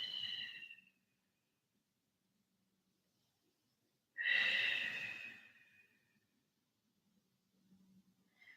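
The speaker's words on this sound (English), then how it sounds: "Take 2 more breaths in the twist, utilizing the exhale to really ring your body" Deep breathing during a seated yoga twist. Two slow, airy exhales separated by a long silence, close and fairly soft, with a faint third breath at the end.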